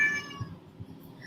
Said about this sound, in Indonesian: Maaf itu suara kucing aku lagi.